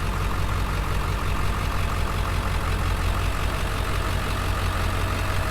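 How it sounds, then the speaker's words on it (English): A Ford 7.3 diesel truck idles with a newly fitted exhaust resonator, giving a steady low rumble that holds evenly throughout, close and fairly loud. "I'm letting the truck warm up right now so we can see what it sounds like"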